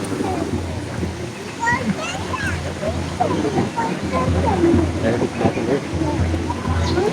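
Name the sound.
cold mountain stream water flowing over stones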